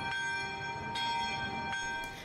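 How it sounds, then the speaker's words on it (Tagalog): Church bell at the Immaculate Conception Cathedral in Zamboanga City tolling during a mass for the Pope, with several strikes whose long ringing tones overlap and sustain between hits. "Pinatunog din doon ang kampana."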